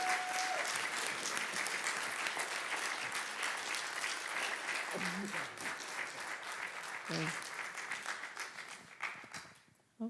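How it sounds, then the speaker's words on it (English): An audience applauds candidates after a conversation event. The clapping is dense and steady for most of the stretch, and a few voices break in briefly before it thins and fades out at the end. "let's give our candidates a round of applause"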